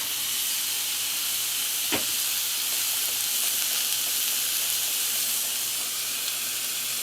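A pound of ground beef frying in a pan over medium heat, a steady even sizzle throughout with one brief scrape near the start and no talking.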